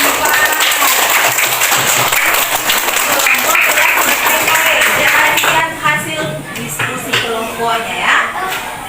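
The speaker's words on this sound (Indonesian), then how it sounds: "tepuk tangan dulu buat kelompok 4" Students in a classroom clap for a group of classmates, loud crowded applause for about five seconds that thins into scattered claps while voices begin talking over it.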